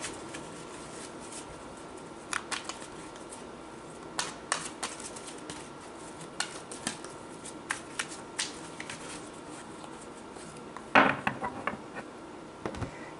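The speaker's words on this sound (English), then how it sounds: "Now I just have to shuffle the other deck." A deck of tarot cards is shuffled by hand, giving soft, irregular riffling clicks and flutters, quiet and close, with a sharper burst near the end.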